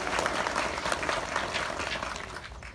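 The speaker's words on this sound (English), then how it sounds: "So big round of applause for the work they do." Applause from the crowd at a wildlife conservation center grand opening, a dense, moderately distant patter of many hands that tapers off toward the end.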